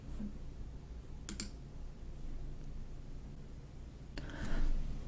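Two short, crisp computer mouse clicks, each a quick double snap, a few seconds apart over a faint room hum.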